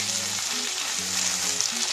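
Carrot, capsicum and tomato sautéing with onion in a pan give a steady, close sizzle with faint stirring, holding constant without a break and with no voices.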